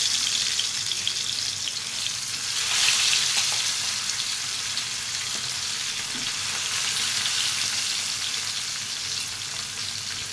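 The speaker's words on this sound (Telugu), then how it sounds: "చేపల ఫ్రై" Fish fries in a pan with a steady, close hiss and crackle of hot oil that swells briefly and then settles into a continuous sizzle, with no voices.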